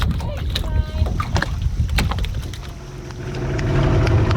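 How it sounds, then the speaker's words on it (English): A boat motor drones steadily as the boat pushes up a river, a continuous low hum that runs the whole time, with voices talking over it. "I was going to show everyone how you're driving the boat"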